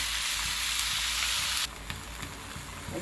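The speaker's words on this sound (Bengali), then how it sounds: "আমি এখন কেটে রাখা পালং শাকগুলো দিয়ে দেবো এগুলো একটু কষিয়ে নেবো" Chopped spinach fries in a pan with a steady, close sizzle and crackle that drops to a softer, duller hiss partway through, with no one talking.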